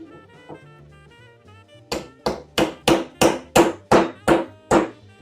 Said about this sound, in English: It's easiest to hammer these guys out,